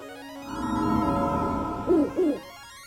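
An owl in The Legend of Zelda: Link's Awakening gives a soft sustained tone followed by two short, clear hoots, close and alone.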